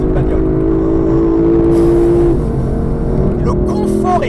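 A Lexus LC500 with a naturally aspirated V8 drones loudly and close by, holding a steady engine tone before its pitch drops and shifts as the car pulls on.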